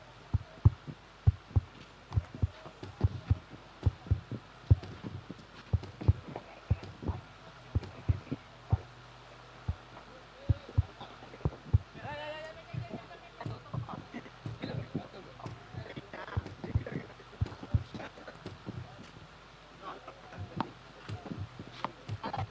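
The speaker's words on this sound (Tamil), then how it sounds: "நானும் ஹார்ட் பீட் போடுறேன்" A heartbeat sound effect is played during local cricket match commentary, a long run of low, regular thumping pulses with voices talking over it throughout.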